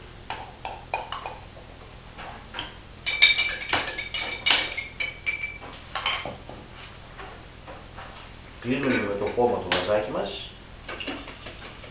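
Crushed garlic beaten into vinegar in a bowl for a Greek patsas sauce: bursts of quick utensil clinks and scraping against the bowl, with a livelier stretch of whisking near the end and a brief voice.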